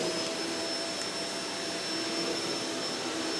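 A Kenmore Intuition bagged upright vacuum cleaner, model BU4022, runs with a steady, loud whine and motor roar that holds unchanged throughout, with no talking.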